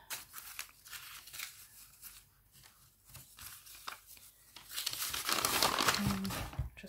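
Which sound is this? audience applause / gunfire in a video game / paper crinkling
paper crinkling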